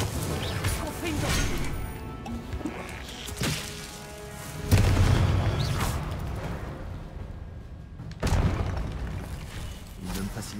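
Spell explosions from casting Confringo in Hogwarts Legacy, heavy booms and crashes bursting out at intervals over game music and effects, with a voice talking throughout.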